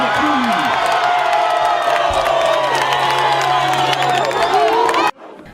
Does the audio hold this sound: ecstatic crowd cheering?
yes